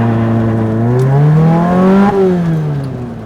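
Lotus Exige sports car engine revving on an uphill test drive after a wreck rebuild, a loud close whine rising in pitch, peaking, then dropping as the gear shifts and fades slightly.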